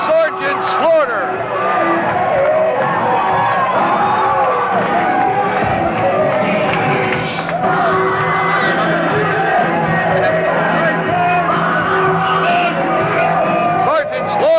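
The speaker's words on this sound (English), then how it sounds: "This crowd is going out of its mind." A wrestling arena crowd roars nonstop for Sergeant Slaughter, a loud, dense wall of cheering and yelling that holds steady throughout, with voices rising out of the din.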